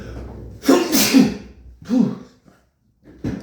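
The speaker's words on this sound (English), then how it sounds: "I'm just gonna sneeze." A single loud sneeze, close up, with a sharp intake of breath before it and a brief sniff after.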